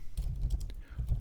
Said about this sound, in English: Simply by typing this, press enter